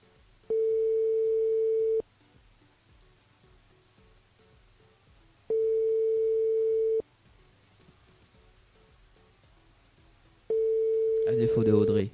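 Three long, steady telephone call tones ring out with silent gaps between them while a radio show dials a listener, and a voice cuts in just after the last tone.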